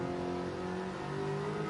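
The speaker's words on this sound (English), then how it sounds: "Oh, that's a seriously revvy car." A racing car engine in a Racing Rivals sim race holds at high revs, a loud, steady buzzing drone with no talk over it.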